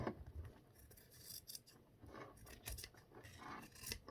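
Scissors snip and slice through tee shirt fabric in a series of quiet, crisp cuts and scrapes, about a dozen short strokes that sound close and soft with no talking.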